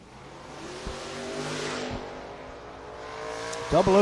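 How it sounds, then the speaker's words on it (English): Show cars drag racing on an asphalt strip, a steady engine drone revving in the background with a sharper burst near the end, mostly free of talk. "Man, show cars out here tearing it up and ripping up some asphalt."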